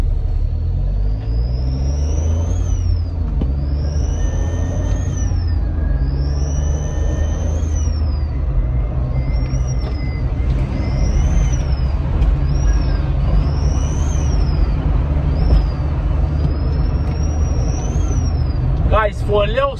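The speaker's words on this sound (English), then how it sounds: "for a little smart car, which is like 700cc, the sound of it is very strong and very loud" A small Smart ForTwo 450 with a roughly 700cc engine and a fitted blow off valve gives a loud, steady low rumble, overlaid by repeated rising and falling whistles every couple of seconds, with a short sharp hiss at the end.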